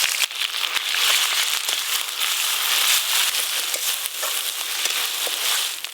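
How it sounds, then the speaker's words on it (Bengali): Whole garam masala sizzling and crackling steadily in hot mustard oil in a pan, a continuous close hiss with scattered pops, no voices. "শঙ্কর মাছ রান্নার জন্য ফোড়নে আমি গোটা গরম মশলা দেব"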